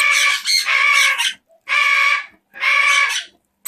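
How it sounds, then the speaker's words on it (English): A four-week-old budgie parakeet screams during hand feeding, loud harsh close-up squawks in three long bursts separated by short silences, with no talking. "oh, screaming bird"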